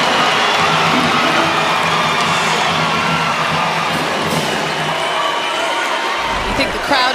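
Arena crowd at an NCAA women's volleyball match between Wisconsin and Ohio State roars in a dense, sustained cheer that fills the space, with a voice faintly mixed in.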